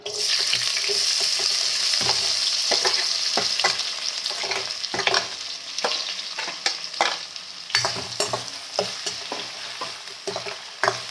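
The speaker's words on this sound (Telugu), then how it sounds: "ఆయిల్ అయితే కాగిపోయిందండి ఆనియన్స్ వేసేద్దాం" Onions dropped into hot oil for chicken curry sizzle loudly and continuously up close, broken by repeated stirring scrapes and knocks of a spoon against the pan, with no talking.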